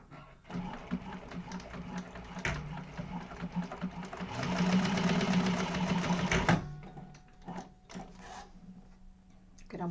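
Sewing machine top stitching an organizer bag with Tex 90 thread, a fast mechanical whir and clatter that runs steadily for a couple of seconds, then slows into scattered clicks and handling sounds.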